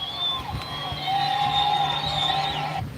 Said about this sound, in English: You can hear people cheering